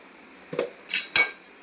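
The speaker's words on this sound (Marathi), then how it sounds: "याला मॅश करून घेतोय पॅनमध्ये" Roasted green chilies fried in peanut oil with salt are mashed in a pan with a metal utensil such as a small pot, giving three separate knocking clinks of metal on metal, close and sharp, with quiet pauses between.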